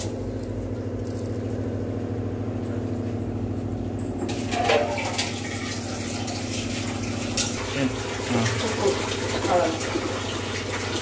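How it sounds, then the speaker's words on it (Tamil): Water pours steadily into a pot of half a kilo of washed rice being readied for cooking, a continuous close splashing fill that grows louder and more bubbly partway through over a low hum. "தண்ணி ஊத்துறேன்."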